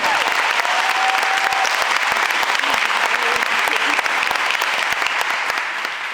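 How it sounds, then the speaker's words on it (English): Loud, dense applause from a crowd at an outdoor field dedication ceremony honoring a coach, continuous and close with a few cheers mixed in. "That deserves a round of big round of applause."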